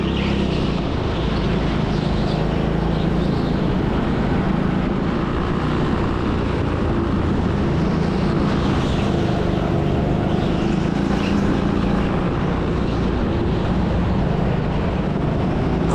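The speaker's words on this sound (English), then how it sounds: "I noticed there's a slight tapping sound from the engine at this point." A go-kart engine's loud, continuous roar fills the whole stretch without letting up during a race; a slight engine tapping underneath is buried in the steady drone.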